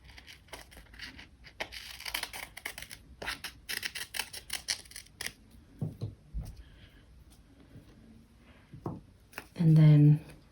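Household scissors snip through thick paper in quick, crisp cuts close by, followed by rustling of the paper while a person talks over much of it.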